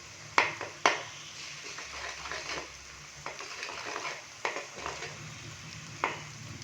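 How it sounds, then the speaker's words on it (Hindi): Eggs and onions fry in a pan with a steady sizzle while a spoon stirs them, giving several sharp clinks against the metal at irregular intervals. "चम्मच की मदद से थोड़ा सा मिक्स करेंगे अंडों को।"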